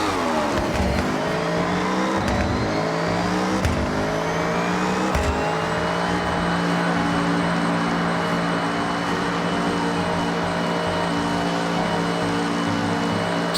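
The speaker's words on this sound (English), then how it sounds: "the auto drive does kind of sound a little bit cursed because there's so much transmission whine with the race trans" A blue Honda Beat fitted with a race transmission drives in the mountains in Forza Horizon 6, giving a loud continuous gear whine and engine drone that rises in pitch as it accelerates. It runs steadily throughout with no talk.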